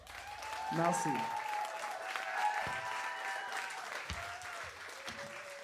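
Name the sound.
audience applause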